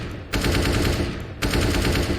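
Two sustained bursts of automatic rifle fire spraying through a wooden board on the Counter-Strike map Mirage, loud and close, with a short gap between them and no talking.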